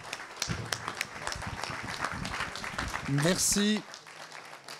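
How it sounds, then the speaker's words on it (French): Audience applause at the opening of a nature conference in a hall: dense clapping throughout, with a voice speaking briefly over it near the end before the clapping fades. "Je veux bien qu'on les applaudisse."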